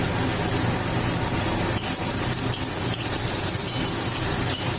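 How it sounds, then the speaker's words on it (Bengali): Chopped onion and green chili dropped into hot oil with fried garlic in a pan, a loud, dense, continuous hiss of sizzling that fills the whole span, close and alone. "এবার পেঁয়াজটা লাল করে ভাজবো।"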